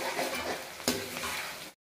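Ginger garlic paste with curry leaves frying in hot oil for chicken gravy, stirred with a utensil: a soft, continuous sizzle with one sharp scrape partway through, then an abrupt cut to silence.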